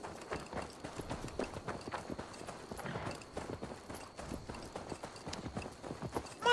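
Horse hooves clip-clop steadily in Assassin's Creed Valhalla while a horse is led to deliver it, the rhythmic hoofbeats continuing with a faint background hiss.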